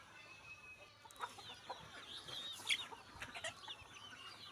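Village country chickens cluck in short, scattered bursts at moderate distance, faint against a quiet rural background with no talking.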